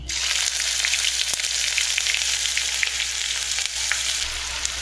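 Ginger paste sizzling in hot oil with whole garam masala for dum aloo, a close, bright crackle that stays steady throughout, with a few stirring scrapes.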